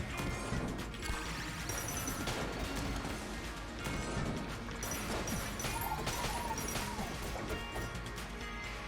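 Repeated loud crashing blasts from the Luxon Cannon firing in Enter the Gungeon amid dense noisy action, heavy impacts recurring throughout.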